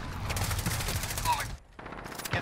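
Rapid automatic gunfire in Call of Duty Modern Warfare during a hardpoint match, dense bursts of shots filling the clip with a brief gap before firing resumes.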